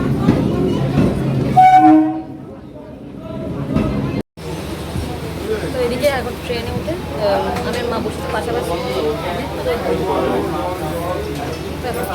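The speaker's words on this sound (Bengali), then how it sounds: "তো এদিকে যে ট্রেন ঢুকছে" A passenger train pulls into a station around midday, its rumble and rolling carriages carrying on steadily under a voice, with a brief tonal horn-like note early on.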